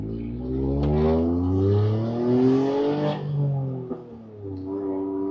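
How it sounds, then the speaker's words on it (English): A car with an aftermarket exhaust revs up, a loud, close, droning engine note that rises in pitch, holds, then drops and swells again, with no talk over it. "I installed this exhaust, and as much as I love it, frankly, I think it's just too loud."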